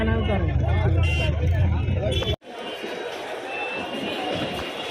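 Busy road traffic near Sealdah station in Kolkata, with a dense engine hum and someone speaking over it, then an abrupt cut to a thinner wash of vehicles and honks with chatter.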